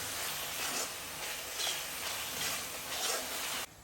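Sliced onions sizzle steadily in hot oil in a pan as chili powder goes in, a bright continuous hiss with soft stirring swells, fairly quiet and cutting off abruptly near the end.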